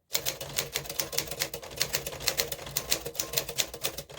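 A freshly cleaned manual typewriter being typed on, rapid loud keystrikes in an even, continuous clatter with no voices.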